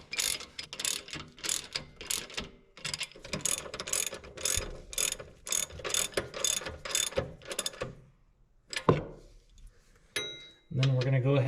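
A hand ratchet rapidly clicking while snugging the bolts on the rear shock absorber of a 1995 Honda Goldwing trike, close and loud in repeated bursts, then pausing before a few final clicks.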